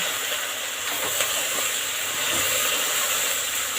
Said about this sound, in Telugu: బీరకాయ ముక్కలు, ఇది నూనెలో బాగా మగ్గాలండి.